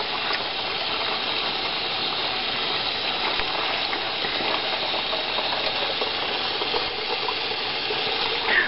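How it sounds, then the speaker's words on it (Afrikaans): Water runs from a kitchen tap while dishes are being washed, a steady close hiss of flowing water holding evenly throughout without pauses. "Mamma gaan bietjie vir jou intap."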